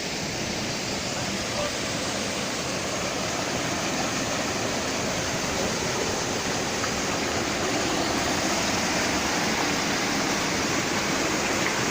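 Agia Kori waterfall at Vrontou Pierias on Mount Olympus roaring steadily, a loud, dense, unbroken rush of falling water heard up close for the whole stretch.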